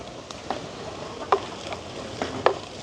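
Onions and green chillies sautéing with curry leaves in a village kitchen pan, a soft continuous sizzle close by with a few light scrapes and taps of stirring, no voices.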